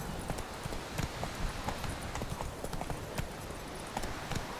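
Hooves of Roach, a horse in The Witcher 3, clip-clop steadily at a running pace, the rapid rhythmic beats continuing throughout at a moderate level with no voices.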